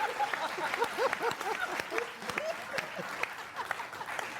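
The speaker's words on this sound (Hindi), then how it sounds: "बच्चों बजाओ ताली" Audience clapping at a Hindi comic poetry recital, scattered claps at a brisk rhythm blended with a sung or spoken voice carrying over them.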